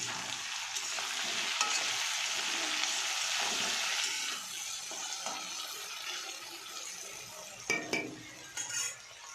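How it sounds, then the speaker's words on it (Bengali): Potatoes fry in a pan with a broad, steady sizzle that eases after a few seconds, followed by a few clinks and scrapes of a utensil near the end. "এখানে আলু ভাজছি"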